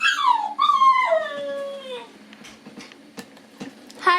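Pet puppy Ginger whimpers and howls in long, wavering high cries that slide downward, then trails off into faint scattered whines and soft yips, close by with no talk.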